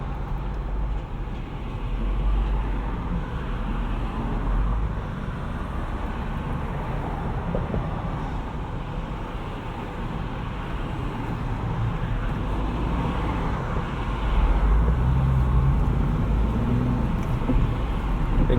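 A 2017 Jeep Wrangler Unlimited with a 3.6 V6 and manual gearbox drives along a road, its steady low engine drone and tyre rumble continuous and fairly loud from inside the cabin, swelling slightly toward the end.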